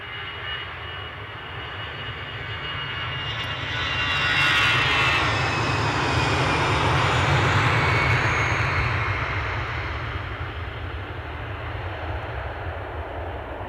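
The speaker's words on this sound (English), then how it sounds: "That'll be the London City midday departure that we just had on camera." A London City midday departure takes off with a steady jet-engine roar that swells to a peak in the middle and then slowly fades as it climbs away, with no voices.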